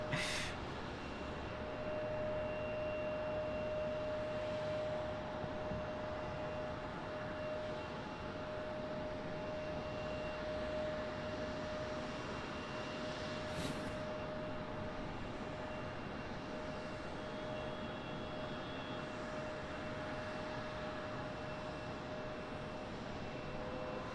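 A Boeing 737-800 jet arriving at Raleigh-Durham from Manchester, England, its engines a steady, continuous roar holding at an even level throughout with a sustained whine on top and no voices.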